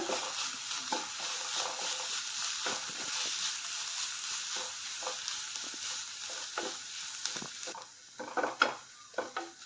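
Passion fruit leaf thoran, a Kerala stir-fry, gets mixed in an open pan: a soft steady hiss with faint scraping, then a few louder knocks and scrapes of the spoon against the pan near the end.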